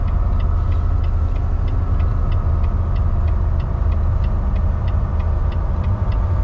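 A heavy truck descending a 19 km mountain downgrade in ninth gear with its engine brake on setting 3: a loud, continuous low rumble with a faint, regular ticking throughout and no voices.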